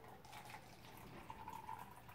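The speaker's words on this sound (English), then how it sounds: "It's the magic tea kettle because when you pour into a cup," Liquid pours steadily from a tea kettle into a cup, a soft continuous trickling stream that rises in pitch near the end as the cup fills, with no voices.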